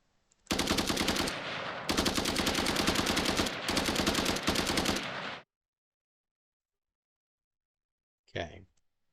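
Rapid automatic rifle fire in an Unreal Engine 5 third-person shooter game, two long sustained bursts with brief breaks, loud and close, followed by silence and a short final sound.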